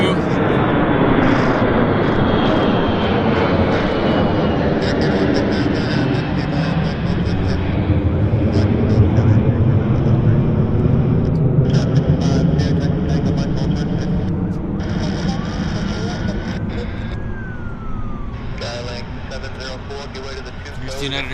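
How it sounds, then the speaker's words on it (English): A United Airlines airliner bound for Denver rolls on the active runway at Vancouver Airport toward the observer, its jet engines a loud, sustained roar with shifting tones. A voice talks intermittently over it. "Here's the United Airlines Denver. Now on the active, coming towards us."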